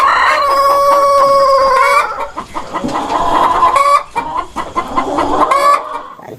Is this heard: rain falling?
no